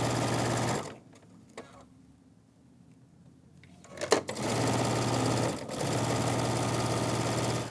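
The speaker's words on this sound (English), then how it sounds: "I can take it back to my sewing machine and stitch all the way down" A sewing machine runs in a steady, fast whirring stitch along quilt binding, stops for a few seconds with small handling clicks, then starts up again in long continuous runs.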